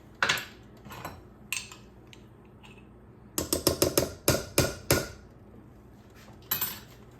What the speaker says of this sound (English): And I've got 2 carrots and 2 celery stalks chopped up. Also gonna go in there.